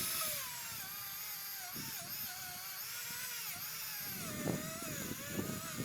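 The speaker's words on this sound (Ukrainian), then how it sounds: "ми вирішили спробувати штробити газобетон новою фрезою для подальшого армування стін" A cheap ZOLX router cuts 20x20 mm wall chases in aerated concrete blocks, giving a continuous high-pitched motor whine that wavers in pitch with grinding bursts as the bit bites into the block.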